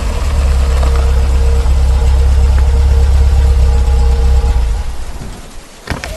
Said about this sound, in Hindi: चलते चलते उन्होंने देखा कि पीछे से एक गाड़ी उसके पास आकर रुकी।